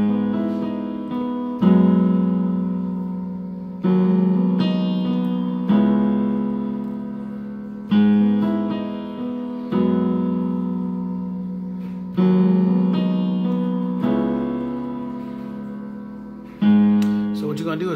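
Solo piano plays a song, with sustained chords struck about every two seconds and each one decaying before the next, close and fairly loud with no voices.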